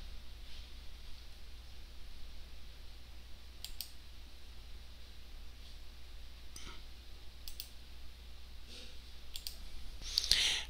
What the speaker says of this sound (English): I'm going to click on lab results right here.